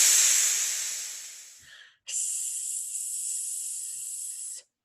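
A person imitates a snake with two sustained hisses made by the tongue behind closed teeth, the first fading out over nearly two seconds, the second steady for about two and a half seconds, close and alone.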